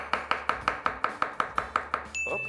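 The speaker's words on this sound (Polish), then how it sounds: "pokroję pieczarki po prostu na mniejsze kawałki" A kitchen knife chops button mushrooms into small pieces on a cutting board, about ten even, sharp knocks in a steady rhythm, close and clear, then a brief clink of utensils at the end.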